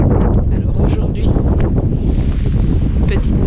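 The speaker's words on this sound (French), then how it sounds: "Je ne sais pas si vous m'entendrez parce qu'il y a énormément de vent." Strong, steady wind buffets the microphone throughout a morning walk at Le Tréport on the French coast, a loud continuous rumble with gusty fluctuations and no clear voices.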